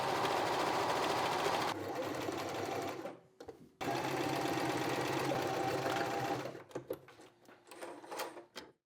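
A sewing machine hems a garment and takes in an inner seam, running loud and close in two sustained bursts and then a series of short stop-start stitches, with no talking.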